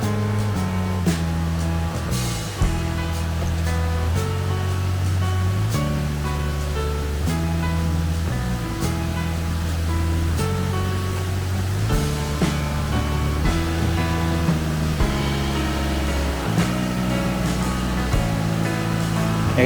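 A forest stream on a Kozhikode trekking trail flows in a steady, full rush of water, continuous and close, with no voices.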